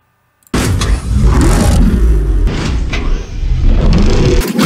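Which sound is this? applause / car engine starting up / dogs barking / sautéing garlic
car engine starting up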